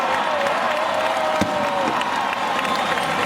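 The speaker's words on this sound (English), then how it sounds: "HMS Collingwood crowd, please cheer them harder, ladies and gentlemen" A large crowd cheers and shouts at an HMS Collingwood field gun competition, a steady wall of voices and whoops with a brief sharp peak near the middle and no pause throughout.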